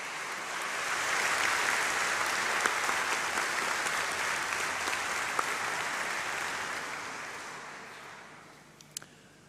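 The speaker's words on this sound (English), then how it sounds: "could you give a round of applause for all these people?" Graduands at a graduation ceremony break into steady applause, a dense wash of clapping that swells early, holds and then fades near the end, with no talk over it.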